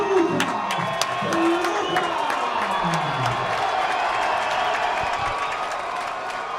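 A boxing arena crowd cheers and applauds as unbeaten fighter Mark Deluca, a Marine war veteran from Whitman, Massachusetts, is introduced, a dense steady roar with scattered claps and whoops that holds throughout.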